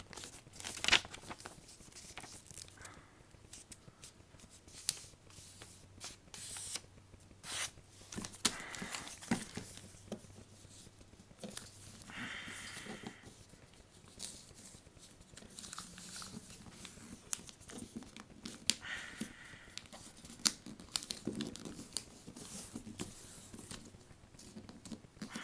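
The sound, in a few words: folding paper for a paper airplane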